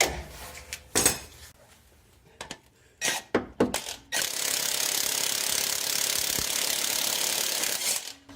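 An Earthquake XT impact wrench drives an impact socket on a bolt during timing belt and water pump work on a Honda Odyssey: metallic clanks and short taps first, then a long steady hammering rattle lasting several seconds, close and loud.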